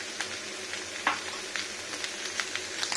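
Poppy seed paste with salt frying in a pan for a vegetarian potato posto dish, giving a soft steady sizzle with scattered light crackles and occasional spatula scrapes, close by and fairly quiet.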